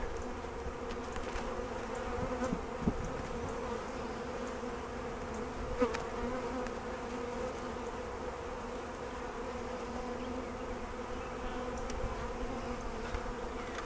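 Honeybees from a package being installed into a hive make a steady, dense drone of many wings close by. A few soft knocks and handling sounds are scattered through it.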